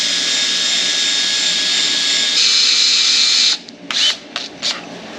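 A drill with a slightly dull bit bores a hole in a Dana 80 axle housing, giving a loud, steady high-pitched whine that cuts off and then gives way to a few short bursts.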